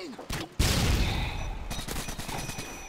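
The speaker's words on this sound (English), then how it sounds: "I thought he shot through the bushes right there" Gunfire in Call of Duty: Modern Warfare 2 as an enemy shoots through bushes. Several sharp shots open the clip, then a loud, sustained burst of fire follows and rattles on for a while, with a player's voice faintly underneath.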